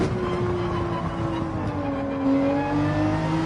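A Porsche 911 engine in Gran Turismo 7 holds a loud, steady drone with rising harmonic tones as it revs, continuous throughout with no talk.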